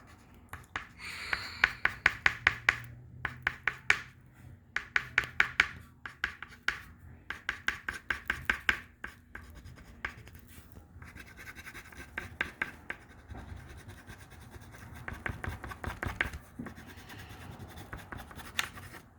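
Crayon or marker strokes scratch rapidly across paper while grass and flower stems in a children's landscape drawing are darkened: bursts of quick, close, rhythmic scribbling separated by short pauses, with no voice.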